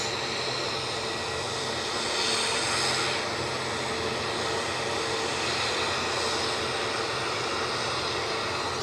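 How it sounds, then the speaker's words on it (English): A Cessna 525B Citation CJ3 Plus business jet, bound for RAF Northolt from Edinburgh, gives a steady distant jet roar that swells slightly midway and then holds, with no talking. "It's a Cessna 525B. Citation CJ3 Plus on its way to RAF Northolt."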